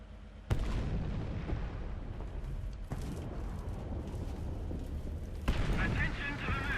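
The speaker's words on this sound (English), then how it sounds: "Somebody put artillery on." Artillery strike in the game War Thunder during a Challenger I tank battle: a sharp blast followed by a sustained low rumble, then further booming impacts, with a player talking faintly over the barrage.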